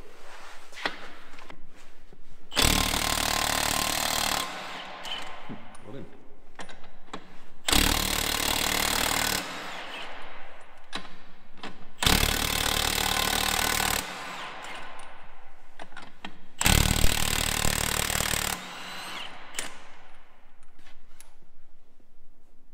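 A Milwaukee M18 3/4-inch cordless impact wrench rattles wheel nuts loose in four long, loud hammering bursts of about two seconds each, separated by quieter pauses with faint background movement.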